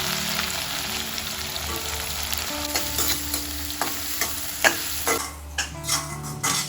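Onion, garlic, cumin seeds and asafoetida sauté in hot oil, a dense close sizzle with regular spatula scrapes and taps that grow sparser and more distinct near the end, no voices.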